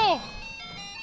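A tinny ice cream truck jingle from a video game rings out loudly at first, then carries on softer under shouting voices.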